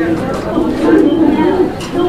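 Large Roman pigeons at a pigeon sale coo in a low, continuous throaty murmur, close by, mixed with background chatter.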